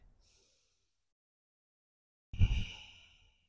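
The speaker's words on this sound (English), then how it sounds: "take a breath." Single audible breath during a beginner yoga session, a brief faint sound at the start, then quiet before one close breathy exhale or sigh lasting about a second and fading out.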